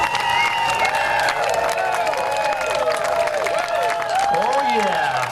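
Outdoor crowd at a Gettysburg Civil War reenactment cheering and clapping for the reenactors, a dense steady wash of applause with shouts rising over it and voices talking throughout.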